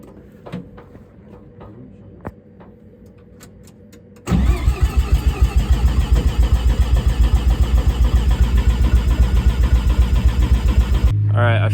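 A turbocharged Mazda RX-7 FC Turbo II rotary engine, first start after four years, is cranked by the starter for about seven seconds of loud rhythmic chugging that stops abruptly, after quiet clicks and handling noises.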